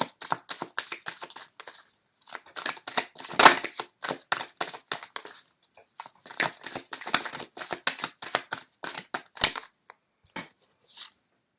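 Oracle cards being shuffled by hand, giving a close, crisp run of rapid papery riffles and taps in uneven bursts with short pauses, and no talking.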